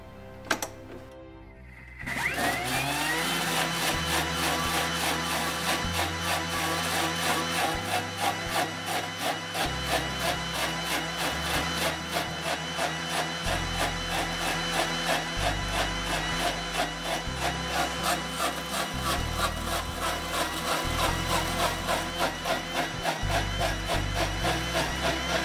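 A blender whirs through grass and water, kicking in after a brief quiet start and then holding a loud, steady, buzzing motor drone for over twenty seconds with no pauses.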